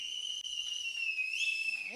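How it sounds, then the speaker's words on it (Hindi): A person whistles a sustained, steady high note at a church youth retreat, clear and fairly close, with a short rising bend near the end and no talking over it. "किसी को सीटी बजाने आती है? सीटी,"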